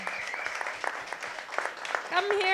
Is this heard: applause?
yes